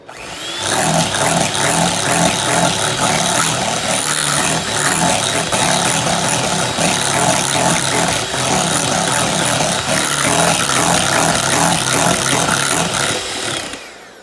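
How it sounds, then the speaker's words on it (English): An electric hand mixer runs steadily at its single fast speed, a loud continuous motor whir with rattling beaters that holds unbroken for the whole stretch, while making a pumpkin pie cheesecake. "Seems like my mixer only has one speed. Just go fast or don't go at all."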